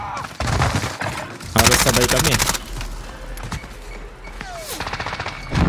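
Enemy gunfire in the Warzone battle royale game rattles in bursts, with a dense loud volley in the middle and sharper shots around it, while players talk excitedly over the fighting.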